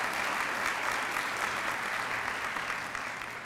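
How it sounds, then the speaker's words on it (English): Sustained applause from a room of guests at a college foundation partner breakfast, thick and continuous clapping at an even level that eases slightly toward the end. "That deserves a round of applause."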